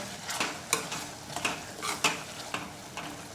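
Ridge gourd curry with ginger-chili paste stirred in a pan, a spoon scraping and clinking against the metal in several sharp strokes over a soft steady sizzle.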